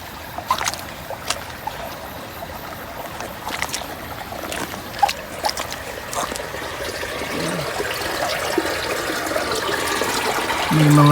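Steady broadband rush of a cold stream where water is fetched, continuous and close, with small splashes and trickles over it and a brief bump near the end.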